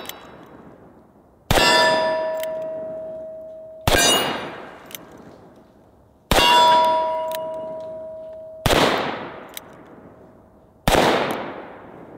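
Five .45 Colt rounds from a Ruger Blackhawk revolver strike steel targets outdoors, each giving a loud sharp clang with a ringing tone that decays over a second or two, spaced irregularly.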